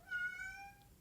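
A house cat lets out a single drawn-out, tonal meow lasting about a second, close and clear against a quiet room.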